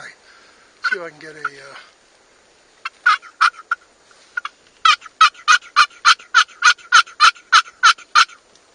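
A series of sharp, rhythmic turkey yelps from a hunting call, starting sparse then settling into a steady, evenly spaced run of calls, fairly close and loud after a brief voice.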